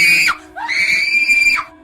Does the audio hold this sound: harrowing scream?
yes